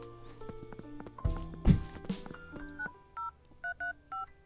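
Telephone dialing at a phone booth in the video game Starstruck: a series of distinct keypad tones, several pressed in quick succession, follow some brief handling clatter, clear and close with no speech.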